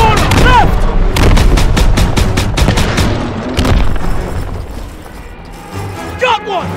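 Rapid gunfire from the World War II shooter Call of Duty: WWII in the Rhine mission: dense, loud volleys of overlapping shots and booms, easing off toward the end, with voices calling out through the battle.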